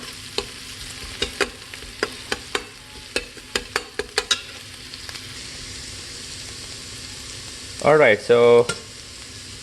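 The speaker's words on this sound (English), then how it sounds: "onions are actually cooking pretty nice" Onions frying in an Instant Pot, a soft background sizzle with a run of quick, sharp clicks from stirring in the first half, then a brief spoken phrase near the end.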